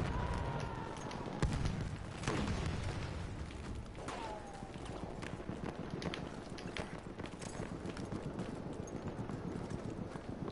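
Rapid clip-clop of horse hooves galloping steadily throughout in Battlefield 1, with a few thuds and brief tonal game sounds layered over continuous background noise.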